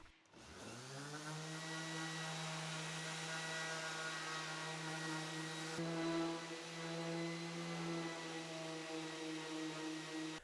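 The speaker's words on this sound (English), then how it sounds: "I started my finishing process with a 120 and 220 grit" A power sander works live-edge wood with 120 and 220 grit, its steady motor whine running continuously and faintly for about ten seconds after spinning up.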